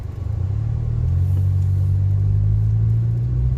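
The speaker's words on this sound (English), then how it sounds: "Look at these cars, man. They're speeding like crazy." Steady low rumble of car traffic on a road in Oakland, engines droning loudly and continuously as vehicles speed past nearby without clear individual pass-bys.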